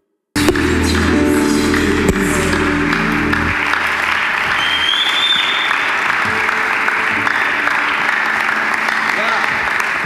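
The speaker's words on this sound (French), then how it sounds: "Recevons avec joie et acclamation l'évêque Samuel Adé." A church congregation claps and cheers to welcome a bishop, loud and continuous, with music and voices underneath at first before the crowd applause carries on alone.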